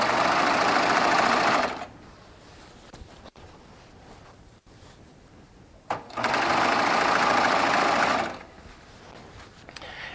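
A Baby Lock Triumph overlock serger runs a 4-thread stitch along quilt binding in two bursts of loud, fast, even whirring. A quiet pause with faint clicks separates them.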